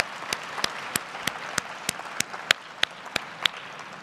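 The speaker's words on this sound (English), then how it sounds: "Can we give them another round of applause?" Sparse audience applause for a panel at a maternal and infant health summit, a handful of separate claps spaced across the moment rather than a full ovation, moderately loud, no talking.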